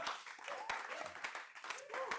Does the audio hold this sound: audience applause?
yes